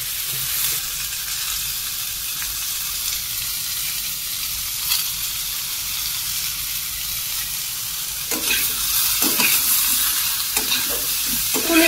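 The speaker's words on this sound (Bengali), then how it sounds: "ভালো করে একটুখানি ভেজে নিতে হবে" Amla fried with turmeric in a pan sizzles steadily throughout, close and fairly loud, with scraping stirs growing busier toward the end.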